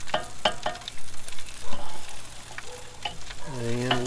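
Chicken wings sizzle on a Weber kettle grill at a tailgate as they are flipped, a close, steady hiss punctuated by repeated sharp clinks and scrapes of tongs against the grate, with a rising tonal squeak near the end.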